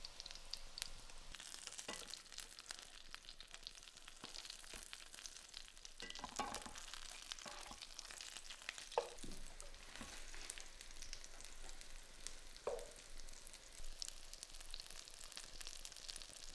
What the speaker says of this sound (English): when that oil's hot, we're going to add the fish cakes and cook for about 7 to 8 minutes